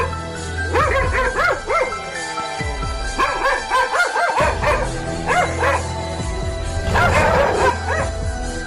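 Several dogs bark, yelp and whine in an excited, overlapping chorus close by during a leopard encounter near a truck, loud and continuous with brief gaps between bursts.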